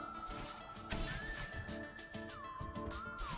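A horse neighs in the video game Celeste, a whinnying cry over layered game music and tones, moderately quiet and without talk.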